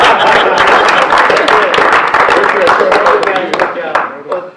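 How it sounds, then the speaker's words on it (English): An audience at a news conference at Dillon Court House applauds, with sharp, scattered claps mixed with voices and cheering before the clapping thins out toward the end. "Let's give the investor another round of applause."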